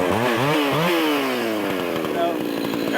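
Husqvarna 268 chainsaw with a modified muffler revs loudly near by, rising in a few quick throttle blips before settling into a sustained high-pitched buzzing roar as it cuts through wood.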